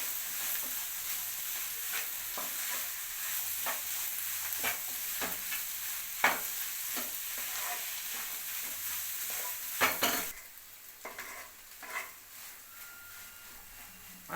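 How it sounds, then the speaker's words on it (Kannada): Potatoes are mixed into a masala dosa palya in a pan, with a steady sizzle, repeated scrapes and clicks of a spoon, and a sudden drop in the hiss near the end. "ಇದನ್ನು ಮಿಕ್ಸ್ ಮಾಡ್ಕೊತಾ ಇದ್ದೀನಿ."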